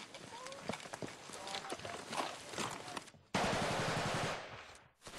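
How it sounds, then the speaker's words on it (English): Automatic gunfire crackles through a Taliban ambush near a village, with rapid bursts and single shots mixed with voices, followed by a sudden dense wash of louder noise. "There's chaos as the shooting begins and the adrenaline flows."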